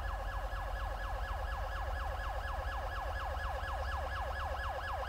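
An ambulance siren from the video game GTA 5 wails in a fast, repeating up-and-down sweep, loud and constant over low road rumble.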